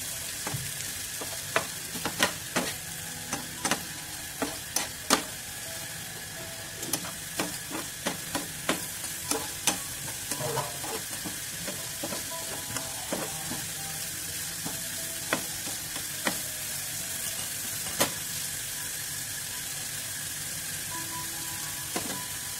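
Vegetables and carrots fry in a pan under a constant sizzle, punctuated by frequent sharp clicks and scrapes of a spatula stirring against the metal.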